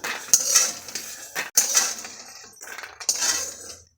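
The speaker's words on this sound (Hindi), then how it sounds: "इसी में कढ़ाई में अपना हम नारियल भूनेंगे" Coconut roasts in a kadhai, with a spoon clinking and scraping against the metal pan in quick bursts and a soft sizzle underneath, close and fairly loud.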